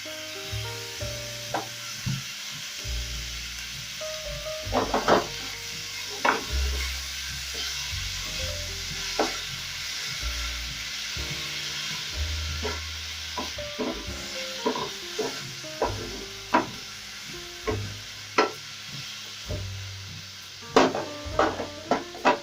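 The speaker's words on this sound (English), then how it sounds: "Now that that is nice and fragrant, I'll go in with my tomatoes." Tomatoes sizzle softly in a frying pan with pork and kale, while repeated sharp taps and scrapes of a utensil stirring against the pan punctuate the quiet background for over twenty seconds.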